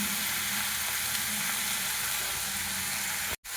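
Green chillies hitting a hot pan with tomatoes, frying in a loud, steady sizzle from start to finish that cuts off abruptly just before the end.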